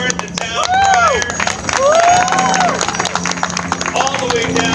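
Outdoor crowd applauds and cheers for a town crier at a Christmas season gathering on Boston Common, steady clapping throughout with a voice carrying over the crowd.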